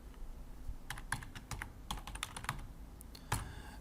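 Quick, light clicking of computer keyboard keys as a file path is typed, irregular bursts of close taps at low level with no talking.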